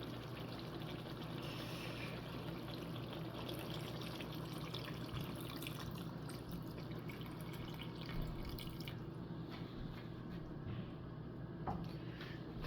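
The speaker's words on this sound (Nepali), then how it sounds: "त्यसमा अब थोरै पानी राख्नुपर्छ हैन।" Water splashes and drips into a pan of spicy chicken, a soft, continuous wet trickle with scattered small drips, fairly quiet over a low background hum.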